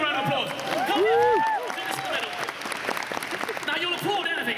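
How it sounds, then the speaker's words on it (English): An audience at a live magic show at a convention applauds, a burst of clapping and crowd noise with cheering voices that gradually settles, with talk at the end. "Give Patrick a round of applause."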